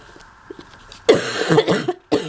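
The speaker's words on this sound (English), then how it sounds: "I am so sorry about my coughing and stuff." A person with seasonal allergies coughs several times in a row, close and fairly loud, with a few sharp bursts after some quiet throat sounds.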